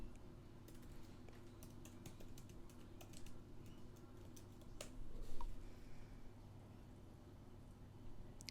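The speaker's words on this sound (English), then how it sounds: "Just listen to me type for a second." Fingers typing on a computer keyboard, a quiet, irregular patter of key clicks over a steady low hum, with a slightly busier burst partway through.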